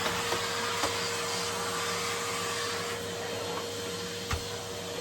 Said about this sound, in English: I'm going to vacuum the area before I do.